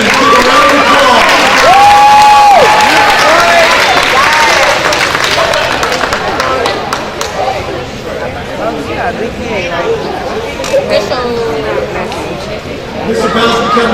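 Applause at a school's first annual banquet for quarter three high honor roll students fills the room, steady clapping mixed with crowd chatter and voices that carry on as the clapping thins.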